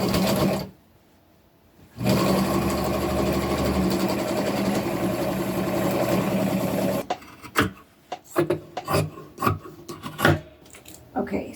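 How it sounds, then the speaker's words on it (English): A sewing machine stitches a denim jumper with a steady, rasping run, then after a brief pause runs again for several seconds, and finally gives short, stop-start bursts near the end. "And let's keep sewing."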